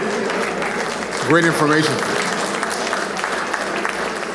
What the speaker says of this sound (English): Let's give a round of applause for all that we've heard so far.